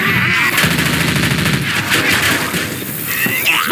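Dense, continuous machine gun fire in Left 4 Dead 2, loud and close, rapid overlapping rounds that fill the whole stretch without pause, with no speech.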